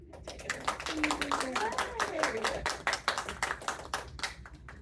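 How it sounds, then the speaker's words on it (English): A small audience claps at a bookstore talk in Peninsula Books, scattered, uneven handclaps close by, mixed with a voice speaking over them. "And we can do a round of applause."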